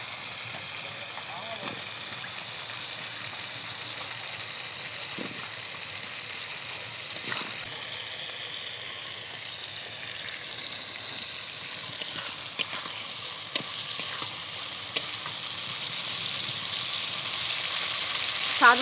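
Potato pieces fry in a cooked-down spice masala for a kajolgouri fish curry made without onion or garlic, giving a steady, soft sizzle and hiss with a few faint clinks throughout.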